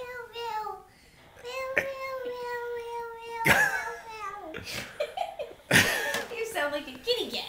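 A child makes high, wavering meow-like cries, imitating a cat, mixed with giggling and laughter; an adult voice chimes in too.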